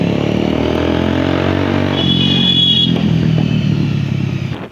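A Bajaj Pulsar 150 motorcycle fitted with an aftermarket Akrapovic-style exhaust, loud and close, holding a steady throbbing idle that shifts tone partway through before fading at the end.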